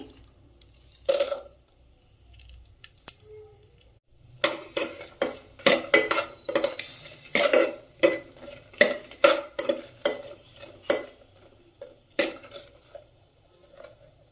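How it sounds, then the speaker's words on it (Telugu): Dried red chillies tossed in hot oil in a pan, with soft sizzling under repeated clinks and scrapes of a spoon stirring against the metal pan, intermittent and close. "అలానే ఆయిల్ హీట్ ఎక్కిన తర్వాత మనం ముందుగా పక్కన పెట్టుకున్న ఎండుమిర్చి వేసుకొని వేపుకోవాలండి."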